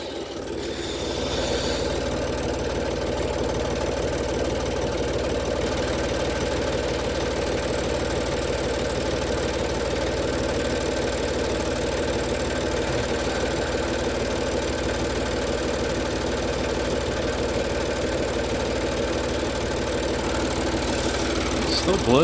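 A Range Rover L322 engine idles roughly while running on only half its cylinders, a steady low droning rumble with uneven knocking texture that holds at constant level for over twenty seconds, close by.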